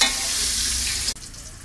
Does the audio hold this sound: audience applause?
no